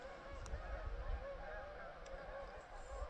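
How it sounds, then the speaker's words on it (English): Migrating geese honk faintly in the distance at night, a steady chorus of calls over low outdoor rumble, with no one speaking. "Can you hear the geese migrating?"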